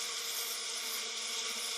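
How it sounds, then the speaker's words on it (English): A colony of bees in a yard on a warm spring day makes a dense, loud, continuous buzzing hum that stays steady throughout with no talk. "No, it's a colony of bees."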